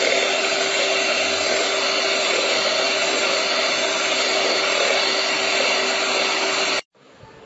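An electric hand beater whirs steadily and loudly while beating sugar for pancake batter, running without pause for about seven seconds before cutting off abruptly.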